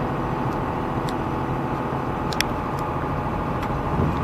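A truck on its first drive with a newly installed transmission, heard from inside as a steady, even engine and road drone at constant loudness, with no voices.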